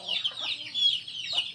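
Chickens clucking while eating rice, a string of short soft clucks and chatter close by with no pauses.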